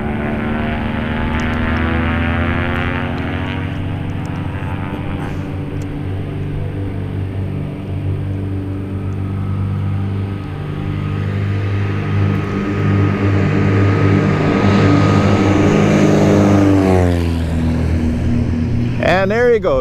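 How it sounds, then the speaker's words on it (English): A twin-engine Piper Seneca airplane takes off from a runway at Pine Mountain Lake, its propeller engines roaring loud and close with a steady harmonic drone that rises in pitch as it accelerates, while someone talks over it. "we have a twin-engine Piper Seneca taking position on the runway for departure"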